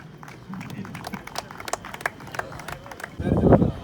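An audience claps at a prize ceremony after a Karaikudi final match, with scattered claps and voices that swell into a louder burst of applause at the end.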